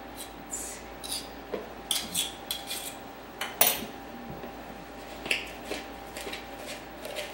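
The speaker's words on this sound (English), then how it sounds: "You just keep cutting it till you get the butter coated with the flour and the sugar" Butter being cut into flour and sugar for an apple crisp topping, a run of soft scraping and light clinking strokes from a utensil in a bowl, close and fairly quiet, with no voices.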